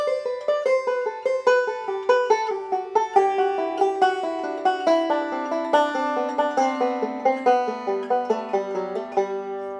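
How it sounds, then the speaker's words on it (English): A banjo repeats a melodic phrase with a subtle accent on the downbeat, a steady run of crisp plucked notes up close, played alone without speech. "If I play this with a more subtle emphasis of the downbeat, it'll sound like this."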